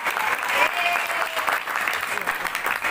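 Audience applause at a school leadership seminar, a dense, steady burst of clapping from a crowd filling the room for a few seconds.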